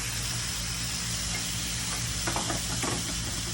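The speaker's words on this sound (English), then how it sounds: "Hear that sizzle? That's what you like to hear." Bacon sizzles steadily in a hot pan, a constant crackling hiss with a few light scraping stirs near the end.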